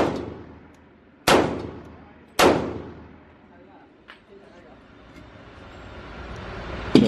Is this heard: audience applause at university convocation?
no